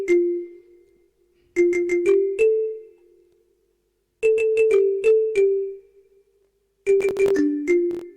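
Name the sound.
marimba sound from FL Studio plugin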